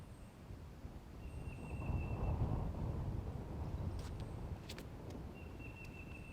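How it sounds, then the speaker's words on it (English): Wind gusts across an outdoor disc golf course at a tournament in Jonesboro, producing a low, steady rumble that swells in the middle and then eases slightly, with no one talking. "Hearing a little bit of the wind."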